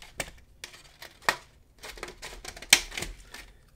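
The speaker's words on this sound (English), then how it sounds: "take your scissors and cut the strip of your plastic plate where those two markers are" Scissors snipping through a strip of plastic plate, a series of crisp close-up cuts in an uneven rhythm, a few louder snaps standing out.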